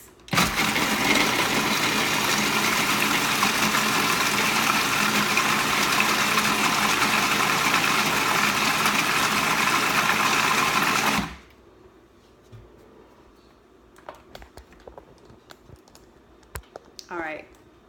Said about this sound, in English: I haven't done this in a food processor yet,